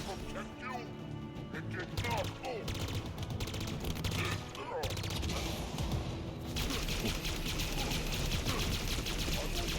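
Heavy gunfire in the video game Halo: dense volleys of shots and crashing impacts, with mechanical clatter, keep up across the whole stretch, loud and busy, with brief shifts in intensity midway.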